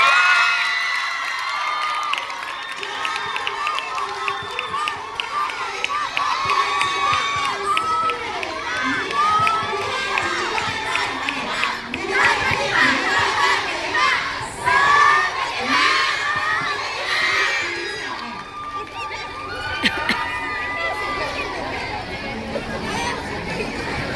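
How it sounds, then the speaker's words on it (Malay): A school prize-giving at an athletics meet, where a large crowd cheers and claps for a record-breaking 4x100 m relay team, with children shouting and steady babble throughout. "Beri tepukan yang gemuruh kerana pasukan ini berjaya memecahkan rekod."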